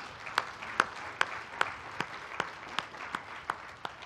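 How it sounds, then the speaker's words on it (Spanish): A church congregation claps together in a steady rhythm, with about ten evenly spaced unison claps at a brisk beat, fairly faint and somewhat distant, over a soft room hum. "De un aplauso al Señor, iglesia"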